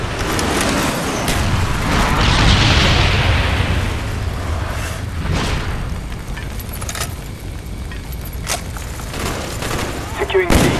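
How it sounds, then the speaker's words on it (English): Napalm strike explosions in Call of Duty: Black Ops, a loud rolling fiery boom swelling and fading over several seconds, with scattered gunfire pops and game voices underneath. "Pending napalm strike on the way."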